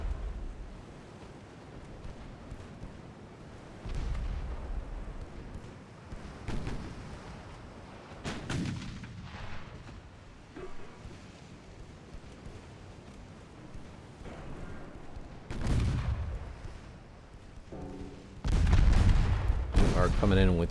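Secondary guns on warships in Ultimate Admiral Dreadnoughts, during a 1908 French campaign, fire in scattered bursts: several separate booming volleys rise over a steady wind-and-surf wash, and the heaviest comes near the end.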